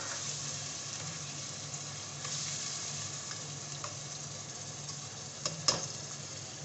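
Chopped onion sizzles steadily in a hot pan for chicken karahi, a constant hiss with a few light clinks and scrapes near the end.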